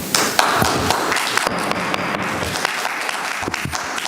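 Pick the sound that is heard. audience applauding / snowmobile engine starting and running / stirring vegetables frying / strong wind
audience applauding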